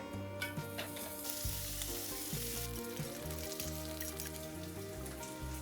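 Bacon strips, cut in half down the middle, sizzle and spit steadily in a pan in an off-grid cottage kitchen, a continuous close crackle with faint background music and no talk.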